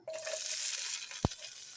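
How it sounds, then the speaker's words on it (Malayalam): Sliced onion hits hot coconut oil as wheat-flour noodles are prepared, setting off a steady, close sizzle that holds throughout, with one short sharp tap near the end. "നമുക്ക് സവാള ഇടാം"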